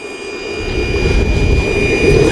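An Align T-Rex 700 RC helicopter's turbine engine spools up after ignition, a loud steady jet-like whine and roar that builds gradually, close by with no talking.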